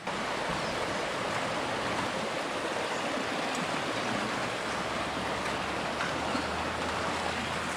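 A stream flowing toward Cedar Falls along a hiking trail, a constant broad rushing of water that stays even and fairly close throughout with no voices.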